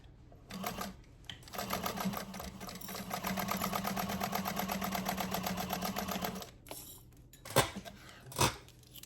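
Close up, a sewing machine stitches across the top of cotton woven fabric for an appliqué bag in one sustained rhythmic run, stopping to a few clacks and clicks of handling afterward.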